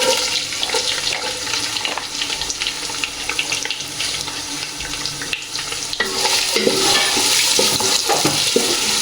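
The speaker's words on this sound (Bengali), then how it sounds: "পেঁয়াজ কুচিটা আমি দিয়ে দেবো।" Chopped onion dropped into hot oil in a pan for bhuna khichuri: a steady, close sizzle and crackle that grows louder and busier in the last few seconds.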